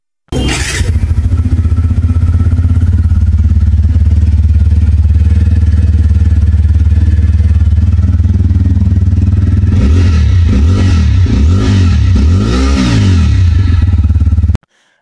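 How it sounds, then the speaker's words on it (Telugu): A loud single-barrel exhaust on a 2025 TVS Apache RTR 160 4V motorcycle idles with a deep, steady throb, then revs sharply several times near the end before cutting off. "ఒకసారి మీరు ఎగ్జాస్ట్ సౌండ్ వినండి"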